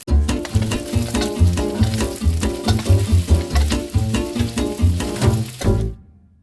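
Onions and peppers sizzle in hot oil in a frying pan while being stirred, giving a busy crackle with a rhythmic scraping and pulsing stir pattern that stops abruptly near the end.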